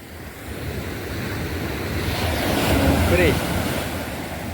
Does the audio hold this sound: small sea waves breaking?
yes